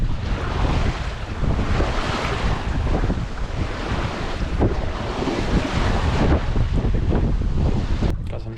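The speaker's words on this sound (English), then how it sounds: "shifty wind going on here." Gusty wind buffets the microphone aboard a single-handed sailboat close-hauled on the Choptank River in Maryland, with a constant loud rush mixed with waves and water around the hull.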